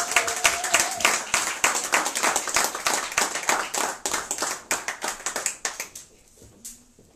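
A church congregation applauds, a fairly close, lively run of rhythmic hand claps that keeps steady for several seconds, then thins and stops.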